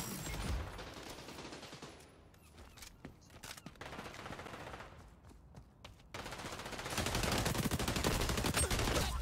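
Gunfire in the xDefiant beta, a first-person shooter game: bursts of rapid automatic shots crackle in uneven volleys, with short pauses between them and a denser, louder stretch of sustained fire near the end.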